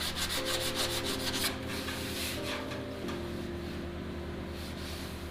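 Body filler being sanded on a car fender: a steady, close rubbing rasp that carries on without a break, with no talk.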